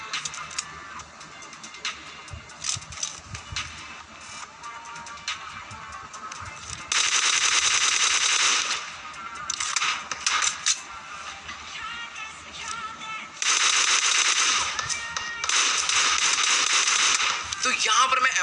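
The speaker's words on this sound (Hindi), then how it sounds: "तो यहाँ पर मैं M4 की 15 बुलेट में इनके 2 बंदे नॉक डाउन कर देता हूँ फटाफट से" M4 rifle fire in PUBG Mobile comes in dense, loud bursts of rapid tap shots that alternate with quieter stretches of crackly game sound across the clip.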